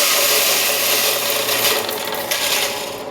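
A Canyon coffee grinder set to 2.5 grinds coffee beans finely, giving a loud, continuous raspy whir close up that eases slightly toward the end, with no voices.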